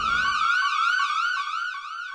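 A neighborhood security siren installed by residents, a loud wailing electronic tone sweeping up and down in steady repeated cycles, heard alone after a brief burst of background noise.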